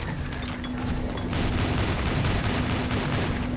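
Rapid, dense gunfire from the Avatar Star shooter game rattles continuously up close, with a heavy sustained burst that intensifies partway through.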